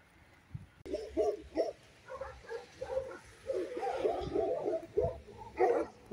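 Several dogs barking and yapping from a neighbour's yard, a busy overlapping chorus of yips and barks at moderate distance, heard while walking past houses.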